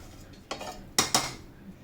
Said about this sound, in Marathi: थोड्या वेळा आपण आता ह्याच्यावर झाकण ठेवूया